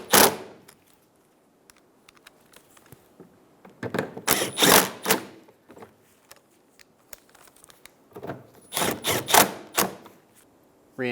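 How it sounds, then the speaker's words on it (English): Someone works 10mm screws back into the underside of a rear bumper on a 2007-2011 Toyota Camry. Close, crisp clicks and rattles of tool and fastener come in two dense bursts separated by quiet pauses. "we're going to reinstall our 10mm screws."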